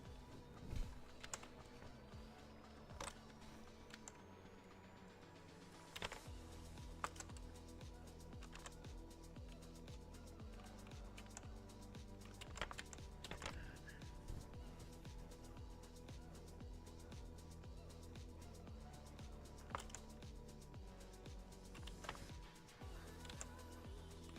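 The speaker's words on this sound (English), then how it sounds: "Keyboard's being noisy." A computer keyboard clatters with steady, quick keystrokes at a fair distance, close enough to be clearly heard, running alongside faint background music with no one speaking.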